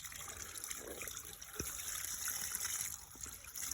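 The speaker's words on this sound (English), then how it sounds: "this fresh spring water coming out of the ground on our property and ending pretty much here" Fresh spring water trickles out of the ground on rural property in Ecuador, a faint steady dribble and splash heard close by with no voices.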